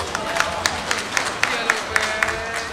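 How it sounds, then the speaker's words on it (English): A crowd at a boxing fight night gives scattered applause for a Thai fighter: a quick run of individual claps, fairly distant, over a murmuring hall. "big round of applause for Kumsahwat from Thailand"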